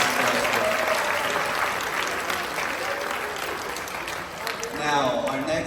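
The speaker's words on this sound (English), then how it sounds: "Give these students a round of applause for the amazing accomplishments they've done." An audience claps for students at a seventh grade beginning band spring concert in North Little Rock, a sustained, moderately distant round of applause filling the hall that tapers slightly near the end.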